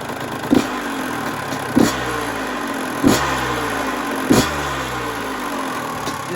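A two-stroke engine blips four times in a steady rhythm, each short rise in revs dropping quickly back to an even, sustained idle, heard up close with no talking.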